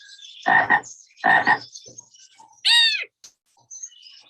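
A single frog croak rings out clearly alone, a short rasping call followed by a brief bright chirp, with a few quieter clicks around it.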